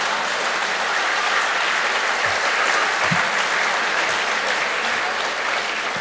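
Audience applause filling the room at a public address on company governance and value creation in Malaysia, dense sustained clapping throughout with no break.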